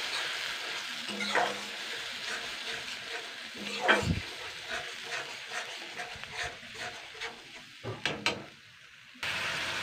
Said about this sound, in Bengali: তো এবার আমি এটাকে কষিয়ে নেবো মশলাটা